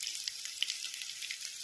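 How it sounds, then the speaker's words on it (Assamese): Turmeric sizzles steadily in hot oil in a wok, a close, continuous crackle with no talk over it. "তেলত দি পেলাই ভাজি ল'ব লাগে হালধিটো"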